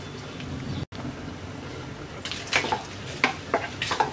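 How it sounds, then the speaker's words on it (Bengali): Chopped onions fry in oil with bay leaves and whole spices (cinnamon, cardamom, cloves, black pepper), making a soft, steady sizzle. Brief clinks and scrapes of stirring come through in the last couple of seconds. "এবার পেঁয়াজটাকে হালকা ভেজে নেব।"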